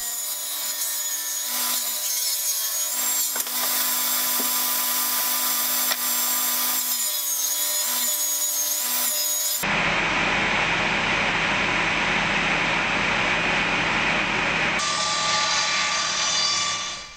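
A power saw cuts through old veneered door wood, a loud continuous whine and rasp held close for the whole stretch, its tone shifting partway through as the blade works the panel.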